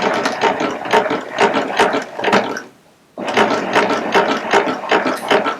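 A Baby Lock Applaud cover stitch serger stitches fabric in two loud close bursts of rapid mechanical clatter, with a brief pause between them and no talk.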